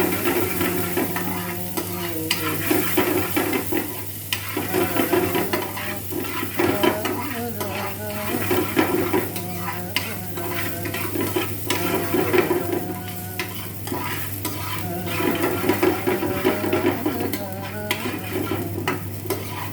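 Chopped onion and whole cumin seeds fry in a pan for Bengali crab curry, a continuous loud sizzle broken by repeated scraping stirring strokes throughout, with no talking.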